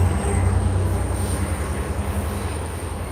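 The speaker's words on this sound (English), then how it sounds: "There's a huge train going by the way." A huge train passes close by, a loud, continuous rumble of railcars and wheels on the track with a thin high squeal running steadily throughout, and no talking over it.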